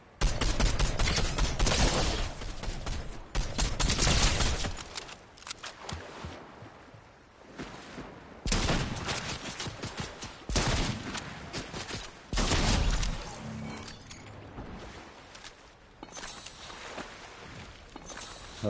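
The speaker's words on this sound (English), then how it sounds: "Who is shooting at me?" Gunfire in the video game Fortnite comes as repeated bursts of rapid shots, loud and close, separated by short quieter gaps across the stretch.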